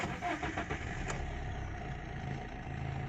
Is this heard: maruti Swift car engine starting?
yes